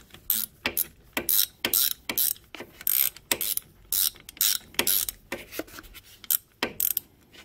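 A ratchet wrench loosening the front brake caliper mounting bolts on a Suzuki KingQuad ATV, clicking in quick repeated bursts of a few strokes each, close and crisp, with short pauses between bursts and no talk.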